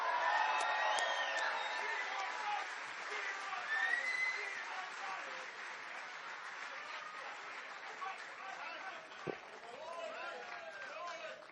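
A large crowd at a Donald Trump rally in Lawrenceville, New Jersey cheers, whoops and applauds in a dense, sustained roar that rises at the start and keeps going for several seconds, with scattered shouts and whistles.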